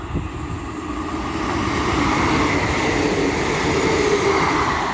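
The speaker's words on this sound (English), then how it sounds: "The next train to be coming through will be another Class 158 running from Leeds to Wigan" A Class 158 diesel unit on a Leeds to Wigan Wallgate service rolls through Castleton station, a loud steady rumble and wheel roar building over a few seconds and holding close by.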